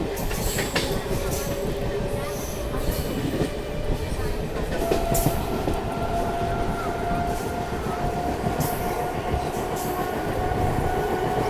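Bangalore-Anantapur MEMU train departing Hindupur station: continuous rolling rumble with clattering wheels and thin, drawn-out squeals, close and steady, with faint voices now and then.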